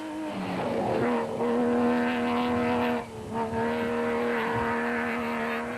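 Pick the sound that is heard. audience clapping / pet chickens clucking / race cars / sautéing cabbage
race cars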